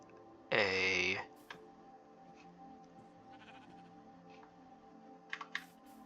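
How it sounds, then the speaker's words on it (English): Sheep in Minecraft give a single clear bleat, loud and up close, followed by faint keyboard typing and scattered soft clicks. "There's a lot of sheep in this world, this area."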